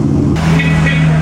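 A vintage Ferrari on the Mille Miglia road rally gives a brief, loud, steady engine note with a strong low tone, and higher whine joining midway.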